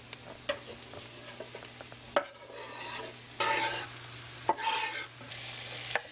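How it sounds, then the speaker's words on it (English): Cremini mushrooms tumble into a hot pan of sautéing onions, setting off bursts of loud, close sizzling and frying with stirring clatter and scraping, no talking. "So I'm going to add all these cremini mushrooms to those sauteing onions."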